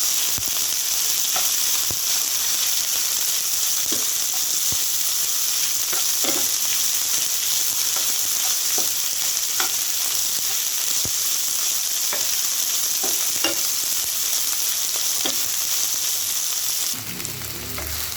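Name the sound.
okra stirred and frying with cumin in a pan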